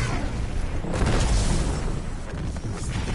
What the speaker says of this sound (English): you can get my void explosions in.